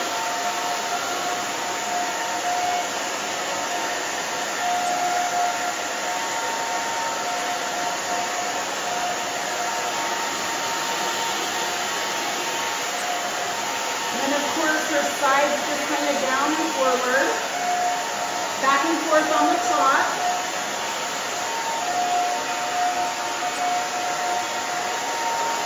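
A hair dryer blow-dries a pixie haircut with a round brush, giving a steady, continuous whirring hum throughout, with someone talking over it in the middle stretch.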